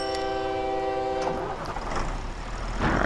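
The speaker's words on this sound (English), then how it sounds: "let's wait for the train to leave" A train rumbles along the tracks in OpenTTD. A sustained horn-like tone sounds at first, then fades into steady rolling noise.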